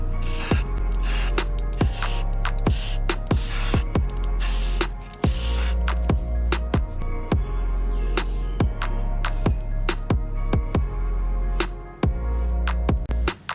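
An aerosol can sprays paint onto car rims and hub caps in a long series of short hissing bursts, each a few tenths of a second long and separated by brief pauses, close and steady, with no talking.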